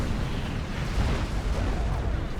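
An artillery barrage pounds a base in a custom 6v6 match of the strategy game Supreme Commander: Forged Alliance, a continuous low rumble of overlapping explosions that never lets up.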